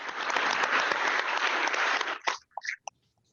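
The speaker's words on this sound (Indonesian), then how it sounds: "Tepuk tangan buat Chris." Dense applause from an audience fills about two seconds, then breaks off into a few scattered final claps and quiet.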